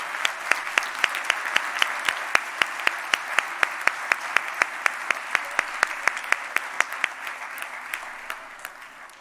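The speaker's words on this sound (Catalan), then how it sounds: "crec que es mereixen un aplaudiment" An audience at a Christmas choir concert of a municipal music school applauds, warm dense clapping with a few sharp individual claps standing out, steady throughout and slowly tapering toward the end.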